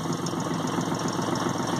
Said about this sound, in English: I'm just going to start it up so you can see how well these engines start.